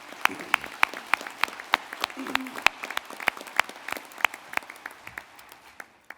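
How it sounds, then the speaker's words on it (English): Audience applause for a panel at a State of the Tribal Nations program, scattered sharp individual claps standing out over a soft crowd bed, moderately distant and fading toward the end. "One more round of applause for our panel."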